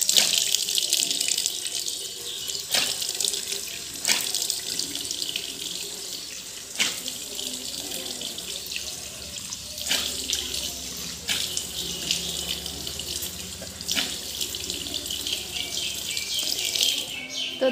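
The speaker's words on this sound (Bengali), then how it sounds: "এখন নর্মাল জল দিয়ে ধুয়ে নেব" Plain tap water runs steadily into a sink while a face is washed, with repeated splashes and sharp spatters every couple of seconds over the continuous hiss of the faucet, close by.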